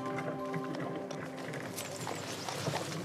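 Working horses trained for vineyard labour, their hooves clip-clopping in a steady rhythm at a moderate distance under a constant outdoor background, with faint murmurs of voices.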